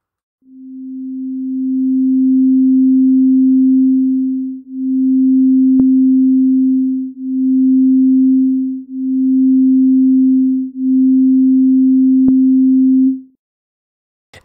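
A steady low pure tone plays in five sustained segments separated by brief gaps, loud and clean, with two faint clicks along the way.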